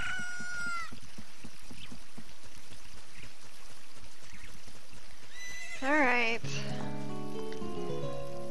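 A horse in Zelda: Ocarina of Time gives a loud rising whinny partway through, set against the game's busy background noise and music.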